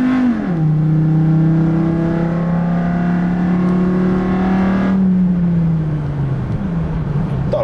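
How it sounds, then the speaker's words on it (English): A car engine with a modified intake drones steadily and loud, its pitch dipping and rising as the revs change, with a deep intake growl throughout. "show the sound that I got out of the intake"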